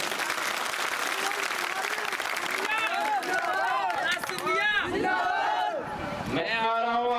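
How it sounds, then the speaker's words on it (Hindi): A crowd at an election rally in Kachhowa, Shivpuri, keeps up dense, continuous clapping and cheering. An amplified speaker's voice carries over the applause toward the end. "सही है तो ताली बजा।"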